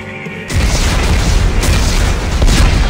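Explosives detonating in Dead Space 3, a sudden heavy boom after a brief quieter moment, followed by a sustained loud rumbling roar.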